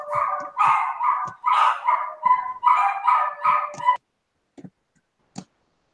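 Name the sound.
dogs barking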